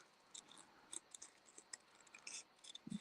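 Scissors snipping paper while fussy cutting a small craft shape, a faint run of soft, irregular clicks and snips close by, with no talk.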